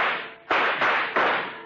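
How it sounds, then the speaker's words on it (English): Gunfire sound effect in a 1951 radio drama, three quick sharp shots in a row, loud and close, with no voices. "Gunfire cut loose at the back of the building."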